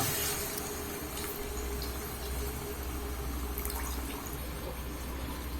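Water poured into a pan of chicken gravy, a steady close splashing pour running for several seconds, fairly quiet, with no talk.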